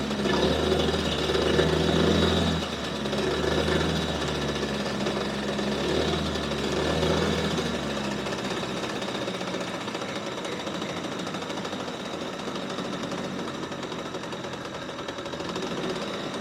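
A small engine runs steadily after its choke is lifted, with a rough, rattling idle that holds loud and continuous throughout with no one talking.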